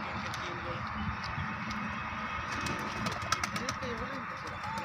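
A fancy breeding pair of pigeons coos softly and repeatedly, low in a busy background, while people talk nearby throughout.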